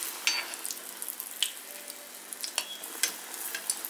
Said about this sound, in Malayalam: മാവ് ഇങ്ങനെ പൊന്തി വരുമ്പോൾ നമ്മൾ കുറച്ച് എണ്ണേൻ്റെ മേലേക്ക് ഇങ്ങനെ ഒഴിച്ചു കൊടുക്കാം.